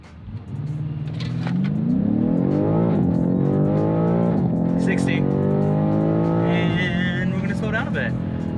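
A 2019 BMW M5 Competition launches hard from a standstill, its engine note climbing steadily through the gears with loud, close rising pitch sweeps and brief dips at each shift, while people talk inside the cabin.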